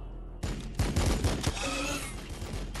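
Gunfire in Warhammer 40,000: Battlesector, a turn-based strategy game: a loud burst of rapid shots opens abruptly and continues as dense, rattling fusillade with booming low impacts and a lingering ringing tail.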